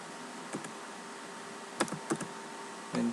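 Sparse keystrokes on a computer keyboard while writing Java code, a few soft clicks scattered over a quiet background, then a louder burst of keys at the end.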